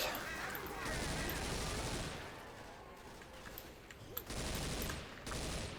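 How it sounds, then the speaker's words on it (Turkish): Gunfire from the Left 4 Dead 2 video game comes in dense rapid bursts with short gaps, loud and close in the game mix. "Bu silah güzel ya. Bu silah bayağı vuruyor hem."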